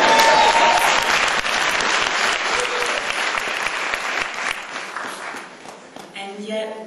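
A large crowd at a peace march claps and cheers loudly, a dense sustained roar of applause that gradually thins and fades as a speaker's voice returns.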